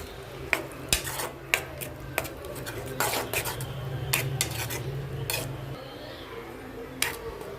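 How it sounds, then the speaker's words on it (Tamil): Metal utensils scrape and clink against a pot in irregular bursts while pepper powder and spices sizzle softly underneath. "நல்லா பச்சை வாடை போகிற அளவுக்கு வதக்கிடலாம்"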